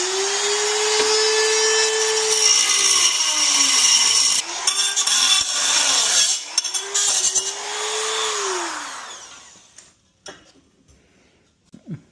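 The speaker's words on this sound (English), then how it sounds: "I got my little flywheel here, my Dremel, so we can go ahead and start cutting this" A Dremel rotary tool with a cutting wheel cuts through a car intake part, its high whine rising and dipping as the wheel bites and eases, pausing briefly, then winding down and stopping near the end.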